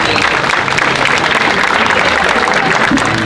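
An audience at a national holiday greeting event breaks into loud, dense, continuous applause for an honoured guest, an even roar of clapping with no pause.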